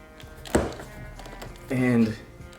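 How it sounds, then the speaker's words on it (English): A single sharp click-thunk as the spring clamps of a carbon fiber console trim piece snap into place in a BMW F30/F80 interior, followed a moment later by a brief voice. "You'll hear those spring clamps click."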